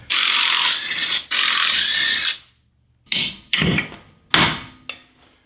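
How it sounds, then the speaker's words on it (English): Work on the steering knuckle of a 2005 Chevrolet Uplander minivan: a sustained loud power-tool whir gives way to about four sharp, ringing metal hammer strikes on the bolts, close and spaced irregularly. "I know you always want to be careful when you're hitting bolts like this."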